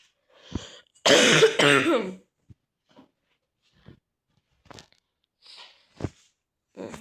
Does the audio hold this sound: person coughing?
yes